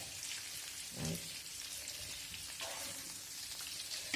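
Rabbit meat fries in a pan with a steady, soft crackling sizzle throughout, fairly faint and even, with no talking.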